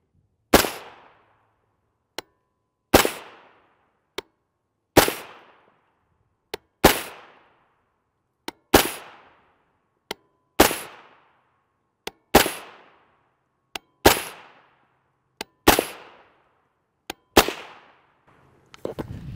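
Ten loud rifle shots from a .300 AAC Blackout with a 10.5-inch upper and JK Armament kit, firing 125gr Tula FMJ ammunition, spaced about two seconds apart, each crack ringing off briefly with faint clicks between.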